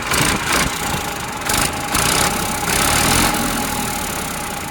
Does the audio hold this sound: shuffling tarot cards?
no